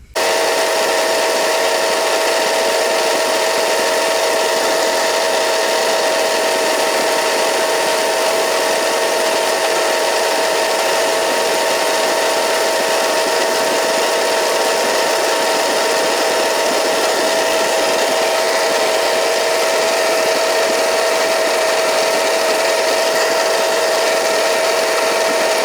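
A machine cuts the cam bearing bore of a Ford 400 engine block, a continuous loud, steady grinding whine with a sustained tone, with no pauses and no talking.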